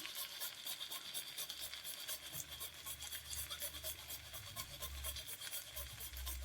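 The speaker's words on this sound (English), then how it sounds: "Some more nutmeg on top." Nutmeg is grated with a rasp over a rösti in the pan, a faint, quick rhythmic scraping that repeats steadily without pause, close but quiet, with no voices.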